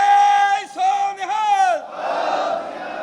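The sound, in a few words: crowd shouting response to Sikh jaikara call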